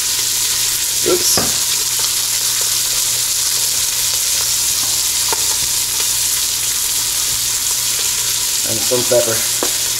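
Beef browning in a hot pan while salt and pepper are added. A loud, steady frying sizzle runs throughout with a few sharp stirring clatters, and a voice briefly speaks over it.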